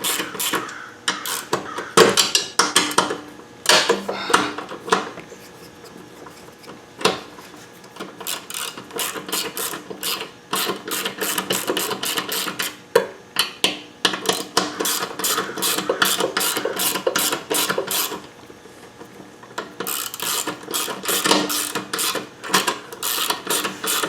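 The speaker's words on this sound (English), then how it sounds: "Let's take our 2 8mm bolts out." A ratchet wrench backs out two 8mm bolts on a Husqvarna mower with a Briggs and Stratton engine, rapid clicking bursts repeating in spells with short pauses, close up and without speech.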